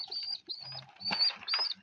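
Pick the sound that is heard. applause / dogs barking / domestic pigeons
domestic pigeons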